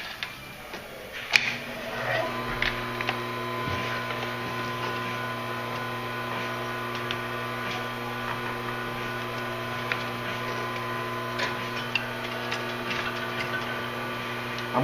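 A stitching machine sews down the side of a single-fold leather wallet, giving a steady mechanical hum with faint, rapid ticking that runs evenly throughout.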